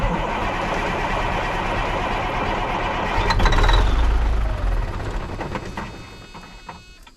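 A 1982 Peterbilt truck's diesel engine cranks with a rhythmic churn, then surges louder as it catches for a moment before fading back down, heard close with no talk.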